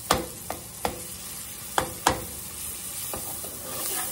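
Onions cooking in melted butter in a pot, stirred with a utensil: five or six distinct scraping knocks at an uneven pace over a soft, low sizzle, close and with no voices.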